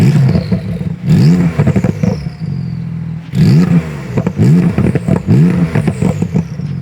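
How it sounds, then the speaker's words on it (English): Close, loud revving from a Porsche 992 Twin Turbo fitted with a Fabspeed exhaust, turbos whistling. The engine goes through quick bursts and drops with short pauses between them, and no one speaks. "you'll hear the turbos even whistling more."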